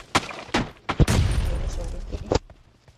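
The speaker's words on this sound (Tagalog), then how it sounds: "Saan ba yung bumabaril?" PUBG Mobile gunfire rings out in sharp, echoing bursts: several single shots, then a longer rapid volley that tails off, mixed with game noise.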